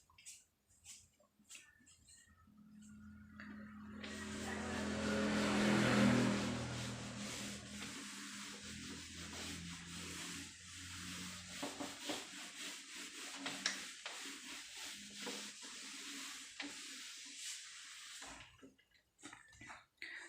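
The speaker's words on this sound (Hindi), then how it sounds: "फिर इसके बाद मैं इसको रब कर लेता हूँ।" Writing being rubbed off a classroom board by a biology teacher, a steady scraping and rubbing that rises, then continues for about fifteen seconds before stopping.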